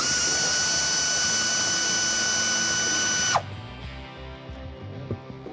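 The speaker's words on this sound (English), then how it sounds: "I'm using an air impact here." An air impact wrench spins a 15 mm nut off the top of a shock on a 1994-2004 Mustang, a loud sustained whine that cuts off abruptly, leaving a quieter workshop with faint knocks.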